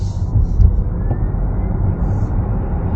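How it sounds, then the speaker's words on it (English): A Kia EV6 GT electric car accelerates at full throttle in GT mode, heard from inside the cabin as a steady, moderate low rumble of road and motor noise without a dramatic rise. "I just buried the throttle, and that was not that impressive"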